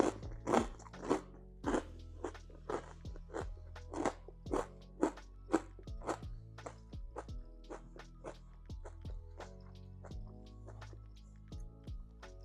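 Crunchy bites into a crouton or piece of lettuce dressed for a kale Caesar salad, a close series of sharp crisp crunches in uneven rhythm, some louder, trailing into softer chewing, with no talk.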